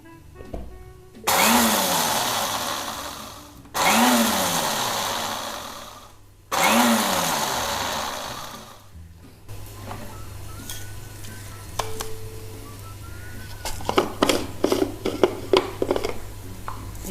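An electric grinder coarsely grinds mustard seeds for mash daal achari in three loud, close bursts of a few seconds each, with brief pauses between them, followed by quieter kitchen clatter and taps.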